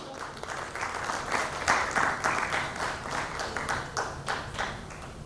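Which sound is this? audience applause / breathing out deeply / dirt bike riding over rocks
audience applause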